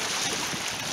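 Strong wind roars across the microphone in a steady, rushing blast while fishing on shoreline rocks, with faint water sounds beneath.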